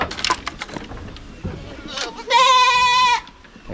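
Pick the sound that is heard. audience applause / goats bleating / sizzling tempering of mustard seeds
goats bleating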